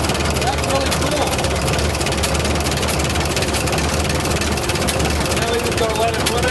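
Old Linn tractor with a vintage carburetor, its engine running as a loud, steady, low rumbling idle close by, continuous throughout.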